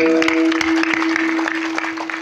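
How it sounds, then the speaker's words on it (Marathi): An audience claps at a Marathi kirtan during the Mahashivratri festival, dense sustained applause over a steady harmonium-like drone, fairly loud and continuous. "टाळी वाजवाय."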